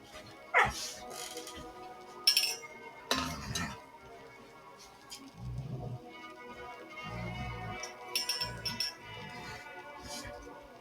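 Dogs bark in several sharp bursts with quiet gaps between them, fairly close, mixed with yips, whimpers and a few clinks over a low background.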